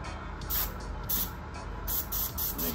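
An airbrush gun spraying airbrush cleaner to flush it out, short hissing bursts of air repeated several times over a steady low background rumble.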